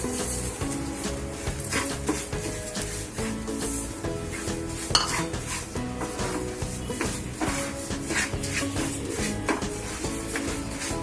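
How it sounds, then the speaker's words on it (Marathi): Ginger mixture and sugar cooking in ghee in a pan as a sweet ginger fudge is prepared, with a steady soft sizzle under continual stirring, spoon scrapes and clinks against the pan, and one sharper knock midway. "आता आपण त्या तुपामध्ये हे आल्याचं मिश्रण घालूया। आता आपण त्याच्यामध्ये ही साखर घालू।"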